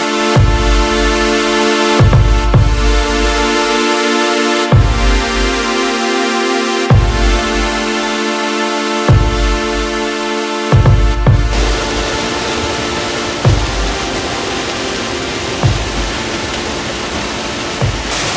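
A steady, loud rush of falling water from a waterfall into pools in Kasauli, Himachal Pradesh, with a few dull thumps recurring every couple of seconds.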